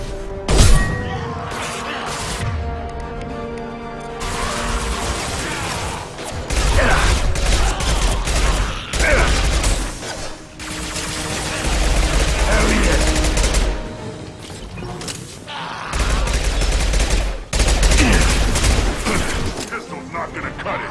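Pistol gunfire in the video game Mass Effect 2, loud repeated sharp shots in quick bursts with impacts and crashes mixed with game effects, broken by short pauses, with occasional voices in between.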